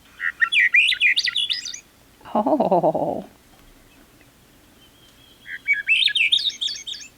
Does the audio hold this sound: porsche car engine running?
no